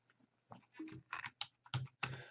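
Keys clack on a computer keyboard in a short run of quick, quiet taps, close by and uneven in rhythm.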